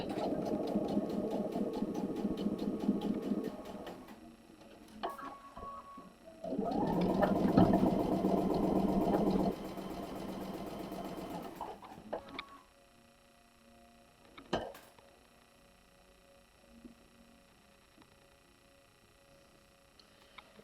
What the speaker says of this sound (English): Okay, we're going to sew it.